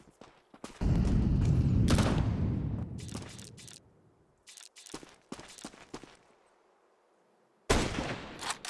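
Close gunfire in a Counter-Strike 2 match: a heavy burst that rings out and decays, then sharp, scattered shots, a quiet pause and one more loud burst near the end.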